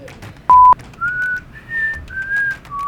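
A person whistles a short tune close by: one loud, clipped note, then several longer sustained pitches rising and falling in turn, with quiet gaps between them.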